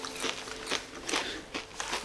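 Crunchy nut snack being eaten up close, with a run of crisp, irregular bites and chewing crunches about every half second, loud against a quiet indoor background.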